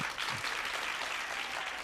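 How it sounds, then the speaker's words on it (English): An audience at a yoga and anxiety talk applauds to welcome a yoga trainer and a psychologist, a soft, steady patter of clapping that holds at low volume for a couple of seconds. "Give an applause"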